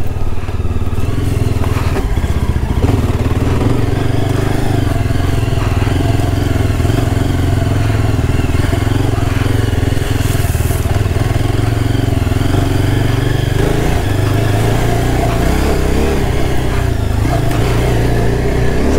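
A 2022 Yezdi Adventure motorcycle rides in second gear through muddy slush on a loose trail. The engine roar is loud, close and steady throughout, with clattering from the rough ground underneath.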